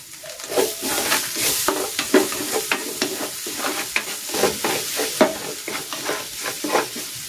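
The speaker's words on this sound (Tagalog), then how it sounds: "Magigisa na ako ng bawang." Garlic sautés in a hot pan with a bright, crackling sizzle, broken up by frequent rhythmic scraping strokes of a spatula that stand out clearly and close.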